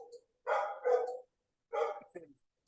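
A small female dog barks in a few quick bursts, two close together and then another pair, moderately near against an otherwise quiet room.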